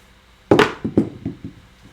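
Dice thrown onto a craps table land with a sharp knock, then bounce and tumble in several quick, fading clatters over about a second before settling.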